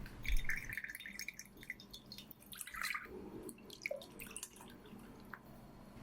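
Freshly made Lebanese lemonade, squeezed from lemons, draining through a strainer, with faint irregular drips and small trickles in a quiet kitchen.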